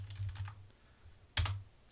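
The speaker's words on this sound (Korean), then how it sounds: "스페이스바를 누르면" Keys clacking on a computer keyboard, including a spacebar press, in two short close bursts separated by a brief quiet gap.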